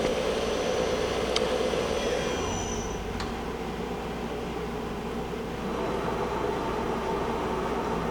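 A Romi 17 x 40 inch CNC combination lathe traverses its Z and X axes with a steady, loud mechanical whine and drone, shifting pitch slightly as the axes move.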